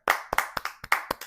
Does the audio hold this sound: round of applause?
yes